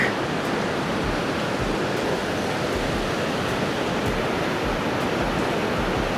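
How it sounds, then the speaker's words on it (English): Loud, steady roar of the Niagara River rapids at the White Water Walk in Canada filling the whole clip, a constant broadband churn like powerful rapids close by, with no voices. "you get to really feel the power of that river and hear how strong it actually is"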